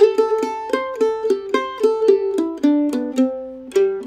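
A mandolin plays the closing phrase of the A section of the fiddle tune Billy in the Lowground, opening with a slide and moving through quick, evenly spaced picked notes, close and clear with no talking.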